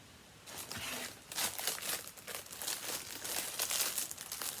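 Crinkly plastic packaging from a cross-stitch subscription box is handled close up in bursts of rustling and crackling that rise and fall for several seconds, with no speech.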